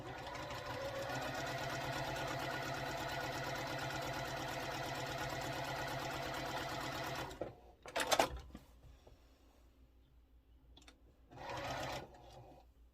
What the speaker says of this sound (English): Now I'm just going to sew right off of the end.